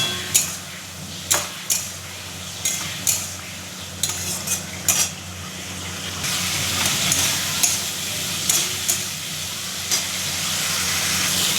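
Potatoes and pointed gourd frying in a pan, a steady hiss of oil with sharp clinks of a utensil against the pan, growing into a louder, broader sizzle partway through.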